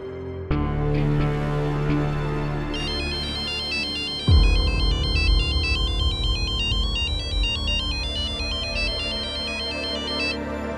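A phone ringtone plays a repeating electronic melody loudly and steadily over a television drama's background music and low rumble, with no talk.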